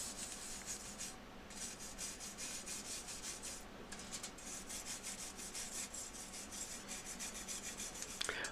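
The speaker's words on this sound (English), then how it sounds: "As I complete the weld beads, I go back and clean with a wire brush." A wire brush scrubs weld beads on a welded steel keyboard shelf frame, making a close, steady rhythmic scratching rasp in repeated strokes with a couple of brief pauses, and no talk.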